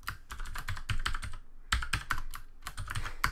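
Typing code on a computer keyboard, a quick close patter of key clicks in bursts with a brief pause midway, no voices.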